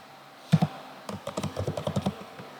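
Someone types a password on a computer keyboard during server setup, with a short double tap followed by a run of about a dozen quick, close keystrokes in an uneven rhythm.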